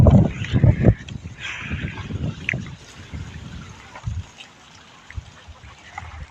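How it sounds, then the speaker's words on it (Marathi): Water runs steadily in the background from a pumped supply, a soft continuous rush, with a person talking over it near the start. "पाणी चालू आहे"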